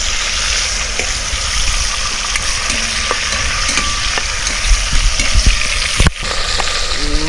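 Ingredients for a fish soup are sautéed together in a hot pan: a loud, continuous sizzle with scattered scraping and stirring clatter, and a sharp clank near the end.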